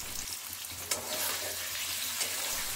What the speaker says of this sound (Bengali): পনিরগুলোকে হালকা কিন্তু ভেজে তুলে নিচ্ছি